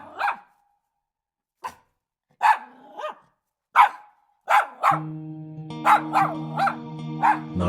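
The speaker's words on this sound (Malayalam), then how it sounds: "നായ്ക്കുട്ടി ഉടനെ ഉച്ചത്തിൽ കുരയ്ക്കാൻ തുടങ്ങി." A puppy barks loudly in a story about a thief, giving spaced single barks and yips that then come faster and closer together, with no talking.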